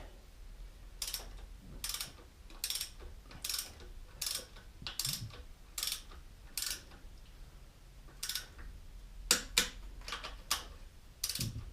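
A wrench ratchets as rocker arm bolts on a Jeep Cherokee cylinder head are tightened, producing quiet, close bursts of rapid clicking in irregular strokes, about fifteen in all, separated by brief pauses.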